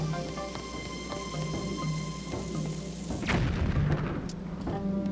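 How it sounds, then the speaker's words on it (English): A bomb goes off in the video game The Legend of Zelda: Skyward Sword, a sudden deep boom about midway that rumbles over steady in-game music and fades over a couple of seconds. "If I throw a bomb up here, will it blow up the area up below?"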